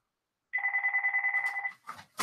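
A telephone rings indoors: one warbling electronic ring burst lasting just over a second, fairly quiet, followed by brief handling noise.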